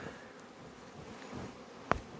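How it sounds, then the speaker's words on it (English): Honey bees hum steadily in the bottom box of a hive, a faint, continuous close-up buzz broken once by a brief sharp knock or rustle. "Look at how many bees are in the bottom box"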